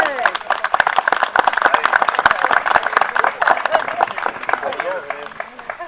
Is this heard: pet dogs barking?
no